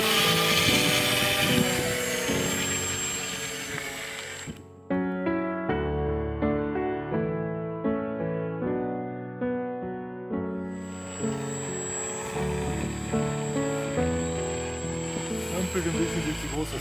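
A Graupner Kapitän 60-size RC model biplane flies on its first flight, its engine giving a steady buzzing drone that shifts in pitch, with a brief drop partway through and someone speaking German over it.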